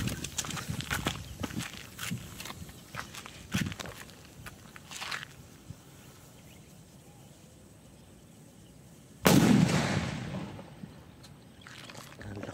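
A King Kong firework goes off as one sudden, loud, sharp blast near the end, after several seconds of quieter scuffing and handling noises close by.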